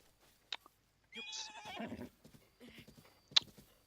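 A horse in the Zelda: Breath of the Wild video game whinnies loudly and gallops off, a brief squeal followed by a burst of neighing and fading hoofbeats, with a few sharp game effects around it.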